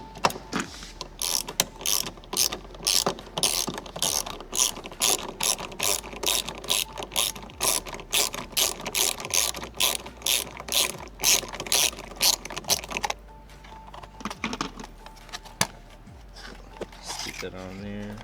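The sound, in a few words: ratchet removing a 10mm bolt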